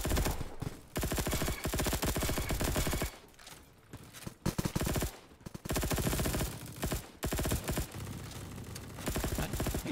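Gunfire rattles without pause in a round of the video game Bad Business, loud rapid bursts of automatic fire that break off briefly a few times before resuming.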